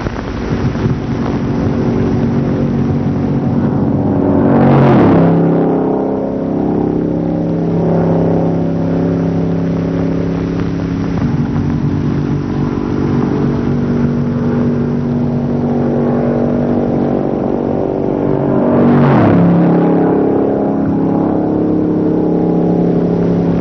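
A 1960 Buick Invicta running endurance-test laps on a track, its engine a steady loud drone with strong wind rush, swelling twice as the car sweeps close past and fades away again.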